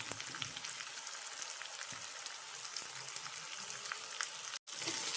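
Tomatoes and onions frying in a pan for chicken roast, a steady crackling sizzle running without a break close by, with a brief dropout near the end before the sizzle resumes.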